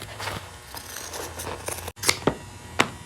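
Scissors cut upholstery fabric to make a pattern for a pontoon boat captain's chair: soft handling rustle, then three crisp, close snips in quick succession.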